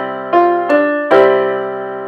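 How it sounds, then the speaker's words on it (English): Three struck piano-like notes outlining a double neighbor figure, moving to upper and lower neighbor tones around a main pitch, the final note ringing out and decaying, played solo without voices. "Or you can have a double neighbor or a neighbor group, which is a combination of upper and lower neighbors, which sounds like this."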